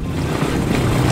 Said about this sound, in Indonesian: kenapa motor di sini, guys?